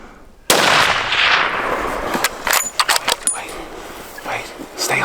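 A single sharp, loud rifle shot cracks out at a New Mexico elk and echoes away, followed by rustling, clattering handling sounds and people talking.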